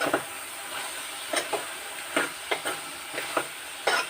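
Spoon stirring chili powder into a bitter gourd curry sizzling in a pan, a steady hiss of frying under a series of soft scraping stirs spaced irregularly, close and moderate, with no talk.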